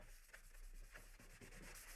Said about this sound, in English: Take a sanding block. I don't know what grit this is. You can sand it